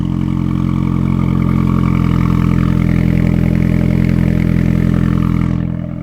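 Steady, loud idle of a 2020 Renault Megane RS Trophy engine and exhaust, a close, even drone with a low throbbing pulse that holds throughout and eases slightly at the end.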